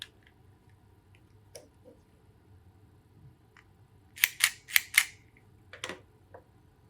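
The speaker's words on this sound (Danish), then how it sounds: "I det her tilfælde bruger vi en one-clicker til vores SC-connector." One-click fiber optic cleaner pressed on an SC connector, a few sharp, close plastic clicks in a quick cluster against a quiet background, with a couple of fainter clicks before and after.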